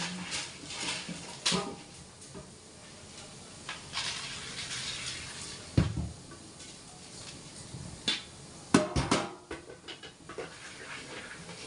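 A soup pot being washed under running water, steady faint water flow with intermittent clinks, knocks and splashes of the pot in the sink, close by.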